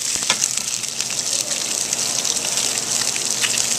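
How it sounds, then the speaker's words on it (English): Olive oil swirling in a hot pan on a stovetop, a steady bright hiss and gushing sizzle at moderate loudness, with faint clicks scattered through. "You get it nice and hot, we're going to swirl it around, get a little olive oil going in there"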